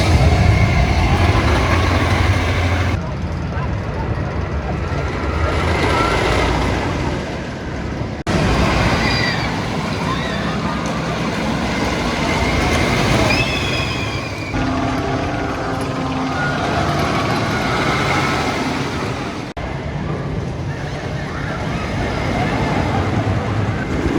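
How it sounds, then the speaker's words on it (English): Wickerman wooden roller coaster at Alton Towers running full trains: loud, continuous rumbling and clattering of the train on track, with mechanical rattles, sharp cuts between passes and screeching tones midway. "So we just had an amazing ride there on the Wickerman."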